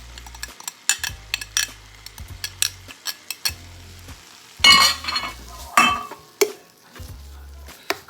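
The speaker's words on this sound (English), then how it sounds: "And now I'm just gonna saute the crab meat." Crab meat sautés in an oiled pan with a sizzle and frequent metal utensil scrapes and clinks against the pan, close and fairly loud, with no talking.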